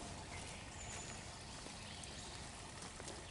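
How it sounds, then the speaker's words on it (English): Steady, even rush of falling water, like a small waterfall splashing into a pond, continuous and moderately distant. "Maybe you can hear the big pond waterfall"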